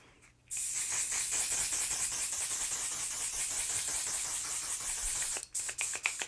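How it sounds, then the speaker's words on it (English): A steady, fine hiss of makeup setting spray runs for several seconds without a break, then stops, followed by a few faint taps. "I'm going to use the one size setting spray"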